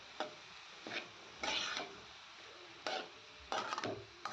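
Ivy gourd (dondakaya) curry is fried in a pan. A spatula scrapes and stirs in short bursts a second or so apart over a faint background sizzle, heard close with no talk.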